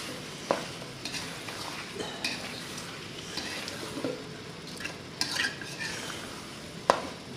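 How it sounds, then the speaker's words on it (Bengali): Spices with a little turmeric being stirred in a pan for a Bengali chicken dish, soft continuous frying sizzle with occasional spoon scrapes and clinks against the pan. "এবার আমি এটাকে একটু নাড়তে থাকবো"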